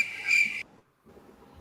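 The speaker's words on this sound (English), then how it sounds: "Why do I hear crickets?" Crickets chirp in the background with a steady, bright high trill for about half a second. The trill then cuts off abruptly, leaving quiet room noise.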